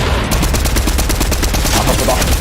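An AK rifle in Fortnite fires in rapid bursts, with loud close sharp shots in a fast regular rhythm through the whole stretch.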